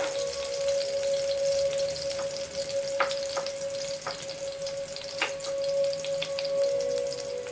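Vegetables fry in hot oil in a pot, giving a steady close sizzle with occasional pops and stirring clicks, and no voices.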